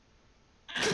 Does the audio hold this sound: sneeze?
yes